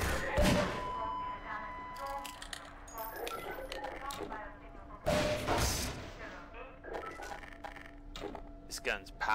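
Gunfire in the video game Half-Life 2: a few punchy game shots with thuds and clinks, two strong bursts standing out among other game effects and a voice talking throughout.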